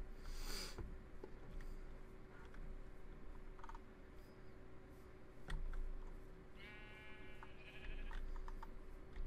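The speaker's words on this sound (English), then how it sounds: "There's a lot of sheep in this area." Sheep bleat in a blocky Minecraft-style survival game, a short wavering bleat standing out mid-way over a faint steady game background with scattered keyboard clicks.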